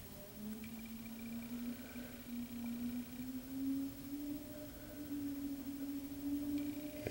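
A homemade windmill freewheels after being shut off, its faint tonal whine rising slowly in pitch as the blades speed up against a quiet, windy background.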